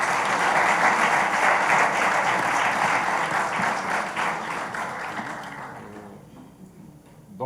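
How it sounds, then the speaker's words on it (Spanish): Audience applause at a literary panel with Alfaguara Prize novelists, a dense, sustained wash of clapping that holds steady for several seconds, then thins and fades toward the end. "el aplauso primero"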